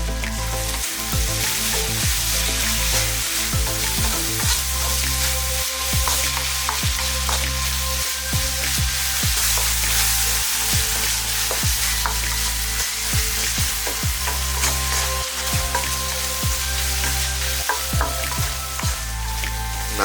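Kerala style beef fry is sautéed in a pan with salt, a loud steady sizzle broken by frequent clanking strokes of a spoon stirring the meat, with no talking.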